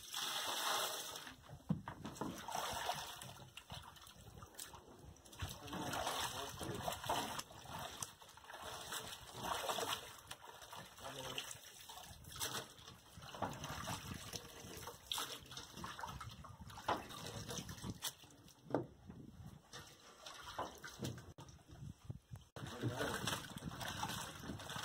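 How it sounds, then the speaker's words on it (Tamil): Water is poured and splashed over fish as they are washed, with uneven sloshing and trickling close by, coming in bursts. "கழுவிட்டு பாருங்க, தண்ணி ஊற்றி நல்லா கழுவணும்"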